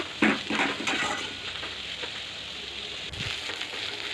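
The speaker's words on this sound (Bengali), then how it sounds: "পেঁয়াজটা ভালো করে নেড়ে চেড়ে ভেজে নেব" Onions fry in a hot pan, giving a faint, steady sizzle with a few soft scraping clatters as they are stirred around.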